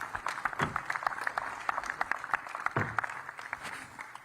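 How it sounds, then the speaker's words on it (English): An audience applauds at the 2024 AMA Pro Motocross Championship press conference: dense clapping at a steady level, with a few sharper claps standing out from the crowd. "Have a round of applause for our 250 contenders."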